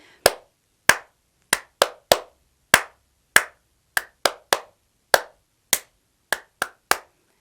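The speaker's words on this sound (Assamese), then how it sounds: "এতিয়া মই 3 টাইম ক্ল্যাপ কৰিম" Hands clapping sharply, close and crisp, in a long irregular run of about sixteen single claps with brief silences between them, no voices present.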